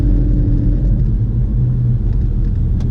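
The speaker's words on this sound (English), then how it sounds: "this car's doing it all in second gear at 7 miles an hour" Low, rumbling engine of a Porsche crawling along in second gear at about 7 miles an hour, a steady close burble heard from inside the car with no talk.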